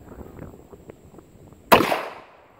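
A single sharp, loud report from a Charter Arms .44 Bulldog revolver fired at an outdoor range, cracking close by after faint background noise and trailing off in a short echoing decay.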